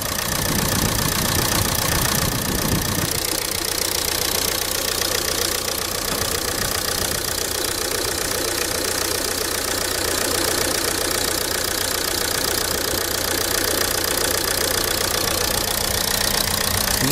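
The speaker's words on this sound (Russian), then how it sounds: "Мотор трясучка." A car engine idles roughly with a persistent shaking knock and a faint whistle, a loud continuous rumble close by that stays steady throughout with no voices.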